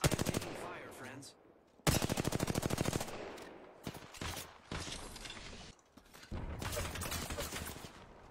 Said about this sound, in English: I'm taking fire, friends.